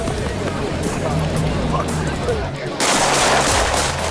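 Shotgun blasts ring out at a three-gun shooting championship match, heavy booming reports layered with crowd and range noise, followed by a burst of loud broadband noise near the end, dense and chaotic rather than clearly separated.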